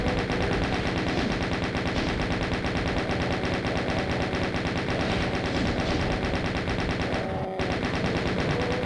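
Nonstop rapid gunfire from Doom II fills the whole stretch, a dense, loud stream of shots with a very brief break near the end.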